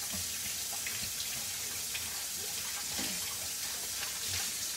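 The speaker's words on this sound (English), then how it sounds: "then we're going to wash this off." Tap water runs steadily into a sink as a plantain is washed for a gluten-free shrimp po' boy, a constant close splashing rush with a few small knocks.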